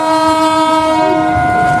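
The Sri Tanjung passenger train sounds its horn as it departs: one loud, close, sustained blast with a steady tone and no other sounds.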